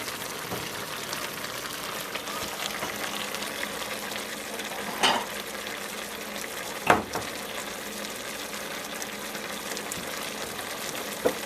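Broccoli, tomato, carrots and zucchini cook together in a pan with a sauce, giving a steady low sizzle and stir with a couple of sharp utensil clicks against the pan, no talking.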